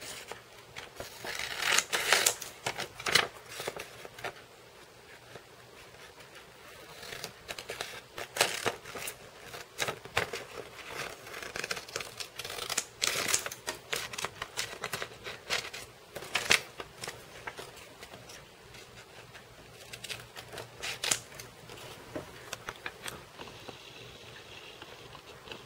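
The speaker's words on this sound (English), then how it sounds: "you just cut on all the outside lines" Scissors cutting paper along the outside lines of a cube template, making crisp rustling snips and crinkles in uneven bursts with short pauses between, close and moderately loud, with no speech.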